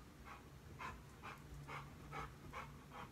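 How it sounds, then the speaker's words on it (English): A dog pants close by in quick, even bursts, about seven rapid breaths, soft and steady against a quiet indoor room. "Sorry if you hear that panting."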